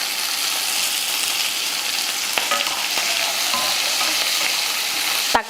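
Capsicum, onion and tomato sauté in a pan with a steady, close sizzle and hiss throughout, broken by a few light stirring scrapes and a sharp clack near the end.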